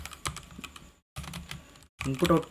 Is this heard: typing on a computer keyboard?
yes